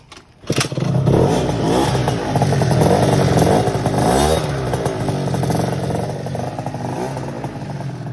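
A Piaggio Typhoon scooter engine starts up and revs loudly and steadily close by, its pitch rising and falling through several throttle blips without a break.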